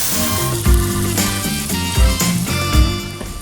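Meat searing in an Ooni cast iron pan: a steady, loud sizzle and crackle of fat. Soft knocks and scrapes recur every second or so as the meat is turned.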